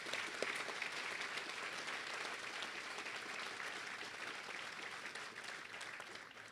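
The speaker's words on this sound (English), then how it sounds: "If everybody will give everyone a round of applause." Sustained applause from an audience at a children's hospital ribbon-cutting ceremony, a dense and even clapping that holds steady throughout without a break.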